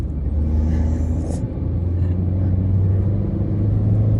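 A Citroën car on the road, its engine a loud, steady low rumble under continuous road noise heard from inside the cabin, with no speech over it.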